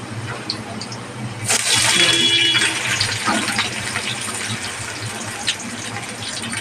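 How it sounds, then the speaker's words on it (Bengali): Chopped onions hit hot mustard oil in a wok tempered with black cumin, setting off a sudden loud hiss and sizzle that swells, then settles into a steady crackling fry. "কড়াইতে এবার পেঁয়াজ দিচ্ছি।"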